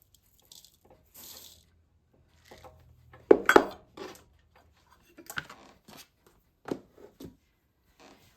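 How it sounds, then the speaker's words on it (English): Quick oats and other ingredients being mixed in a bowl, sparse scraping and clinking of a utensil against the bowl with a few sharper knocks, separated by quiet gaps. "We're just going to mix all these in a bowl here."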